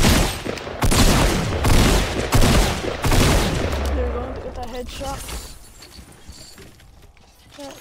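Video game gunfire ending in a headshot, heard as loud, rapid bursts of shots for about three seconds that then fade into quieter ringing tones and a low ambient tail.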